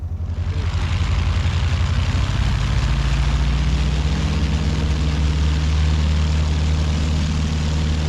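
A T-6 Texan's radial engine runs steadily on the ground before takeoff at a rural airfield, a loud, constant low rumble with a droning propeller hum throughout, no pauses.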